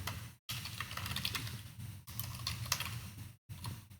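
Fast typing on a computer keyboard while entering drafting text, dense close key clicks in three bursts separated by brief silent gaps.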